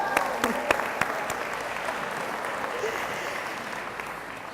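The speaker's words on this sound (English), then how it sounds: "round of applause, parents" Graduation-ceremony audience of parents and graduates breaking into applause, dense crowd clapping with a few sharp claps up front, sustained and gradually easing over several seconds.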